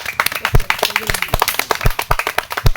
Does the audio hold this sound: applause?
yes